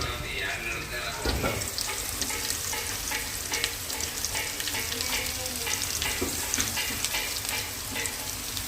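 Spices frying in hot oil in a pan, a dense steady sizzle with scraping stir strokes and occasional louder spatters, close up and continuous with no talking.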